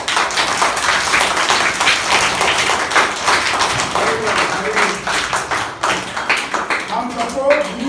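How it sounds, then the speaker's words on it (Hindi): Children clapping their hands in a small group, a dense run of uneven claps going on throughout, with voices talking over them, louder toward the end. "अच्छे बच्चे, ताली बजाओ।"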